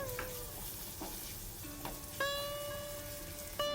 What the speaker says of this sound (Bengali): নারকেলগুলোকে প্রথমে একটু ভালো করে ভেজে নেব